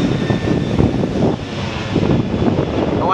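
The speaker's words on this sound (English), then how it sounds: "got an airplane going over" A Hawaiian Airlines jet airliner passes overhead, a broad, steady roar swelling and easing over a few seconds, heard from a rocky off-road trail with some wind buffeting the microphone.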